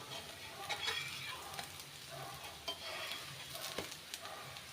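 A wheat dosa with onion, green chilli and chilli flakes cooks on a griddle, giving a continuous soft, close sizzle with occasional light scrapes and taps, fairly quiet and with no one talking.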